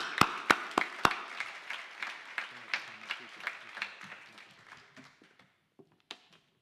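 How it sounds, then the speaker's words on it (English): Applause at a college fall convocation, opening with a few sharp, loud, close claps, then a thin scattering of quieter claps that dwindles to a couple of isolated ones. "let's give him a nice warm applause, please"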